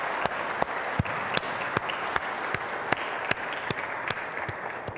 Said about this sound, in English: I would like myself right now to pause and to give a hand of applause to a man who's been a leader